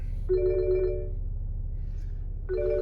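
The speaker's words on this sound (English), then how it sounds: "she must ring and ring until he picks up" Telephone ringtone from an incoming call plays through a BMW X5 dashboard touch-screen upgrade, two tonal bursts about two seconds apart with a steady low hum underneath, moderately loud and without talk.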